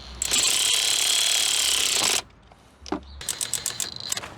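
Tightening the clamp on a car battery terminal of a Ford with a ratchet, a loud steady burst of rapid clicking, then a pause and a second stretch of shorter, choppier ratcheting strokes.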